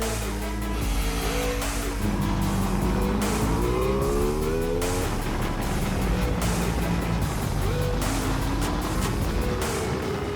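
An Aprilia Tuono 660 Factory motorcycle on track at Cadwell Park circuit, engine roaring loud and continuous, revving up through gears with rising and falling pitch sweeps and repeated shifts.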